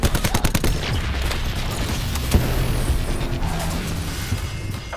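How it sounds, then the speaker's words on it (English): A sensor dart is fired in the Call of Duty Black Ops 4 multiplayer game: a rapid burst of mechanical shots at the start, then a single sharper report amid faint background game noise. "Firing sensor dart."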